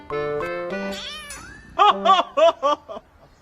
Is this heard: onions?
no